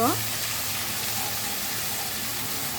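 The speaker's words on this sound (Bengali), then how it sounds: "তেল দেওয়ার পরে পেঁয়াজ বাটা দিয়ে একটু নেড়ে চেড়ে" Onion paste frying in oil in a pan for a Bengali crab curry, a steady broadband sizzle that holds evenly throughout at close range.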